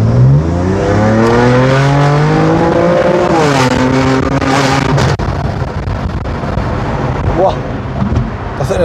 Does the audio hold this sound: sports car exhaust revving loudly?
yes